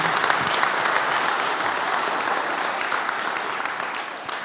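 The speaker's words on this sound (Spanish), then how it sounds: "Dale fuertes aplausos al Rey." During a church sermon, the congregation breaks into strong, continuous applause, a dense wash of clapping with scattered voices that holds steady and tapers slightly at the end.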